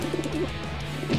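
A pigeon gives a short, soft coo close by, a single brief call over a low steady hum.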